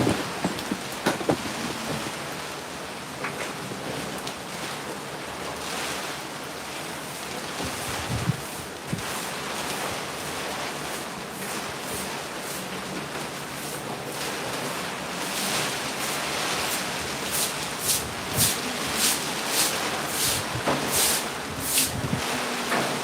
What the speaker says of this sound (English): the rain and the breeze actually are blowing away here